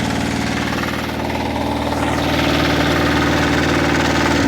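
A WEIMA or Motor Sich diesel walk-behind tractor engine idles steadily up close, a loud continuous throbbing chug with mechanical vibration, holding an even rhythm throughout with no talk.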